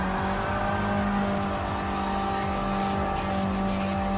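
Race cars in Gran Turismo Sport, including a Volkswagen 1200, roar in a continuous loud engine drone with steady tire noise, no pauses, no voices.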